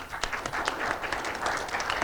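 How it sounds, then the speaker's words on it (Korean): An audience at a Korean press forum applauds a museum director after his lecture, a fairly soft, even wash of clapping filling two seconds with no talk over it. "유홍준 관장님께 큰 박수 부탁드립니다"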